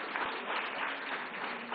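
An audience gives steady, fairly faint applause, a continuous wash of clapping with no voices.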